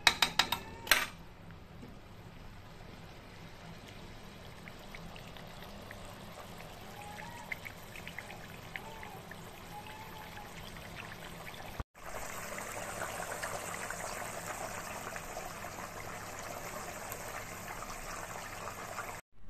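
Katla fish curry with potato and cauliflower simmers in a pot, a soft steady bubbling hiss that grows louder partway through, close and continuous without talk.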